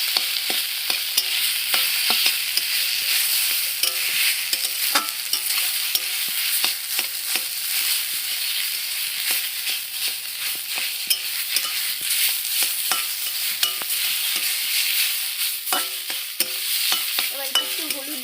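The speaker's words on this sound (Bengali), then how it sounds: "এবার এটাকে আমরা নাড়াচাড়া করে নিয়ে" A pan of vegetarian peanut sauce being stirred over heat. A steady frying hiss runs throughout, with frequent sharp scrapes and clicks of the spoon against the pan. There is no talking.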